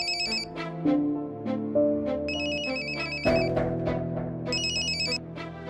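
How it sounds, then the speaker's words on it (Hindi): A telephone rings repeatedly in a Hindi TV serial scene, bright electronic ringtone bursts with a melodic tone pattern, loud and close, no talking. "फोन मत उठाइए सोमा दादा"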